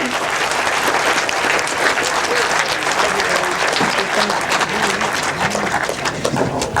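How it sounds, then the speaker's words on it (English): Sustained crowd applause at a 2000 grasstrack testimonial meeting, a dense, steady round of clapping lasting several seconds with no break, loud and close. "A round of applause by the photographs again."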